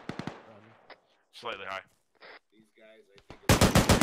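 Automatic gunfire in the military game ArmA 3 opens and closes the moment as sharp rapid bursts, loudest at the end, with radio-style voices talking in between.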